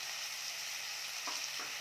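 Finely chopped onions sauté in hot oil for a vada curry, giving a continuous soft hiss with a couple of faint utensil taps, fairly quiet and close.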